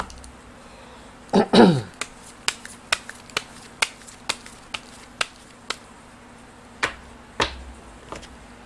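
Gypsy fortune-telling cards are shuffled and snapped, giving a quick run of crisp clicks and taps, close and moderately loud. Two louder rustles come near the start and more near the end, with a faint steady hum underneath.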